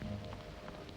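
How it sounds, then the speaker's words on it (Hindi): Heavy rain falls outdoors in a steady dense patter, close and continuous, with scattered louder drops and a low rumbling undertone. "अरे बारिश तो बहुत होने लगी।"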